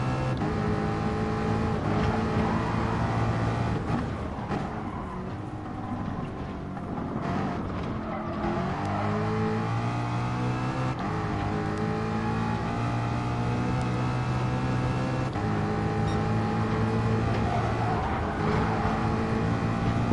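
Race car engine held at full throttle in a racing video game, a steady loud droning whine with tones that rise and shift through gear changes across twenty seconds, no talking.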